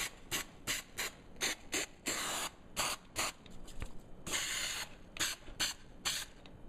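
Short bursts of aerosol spray inside the trunk lid of a Victory Vision motorcycle while fitting a liner, loud, close hissing pulses in an uneven rhythm with a few longer sustained sprays.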